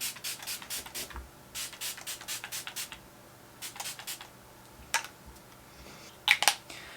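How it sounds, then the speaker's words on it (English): Quick bursts of a spray bottle spritzing primer water onto a face in rapid clusters, soft hissy pumps repeated many times close by with no talking. "give my face a little spritz with the Smashbox Primer Water"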